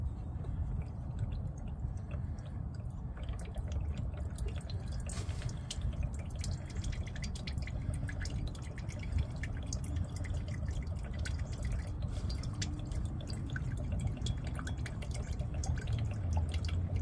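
Water drains steadily from the fuel water separator on a Dodge Ram with the 6.7L diesel, a continuous close trickle with dripping and splashing that runs the whole time, with no talking.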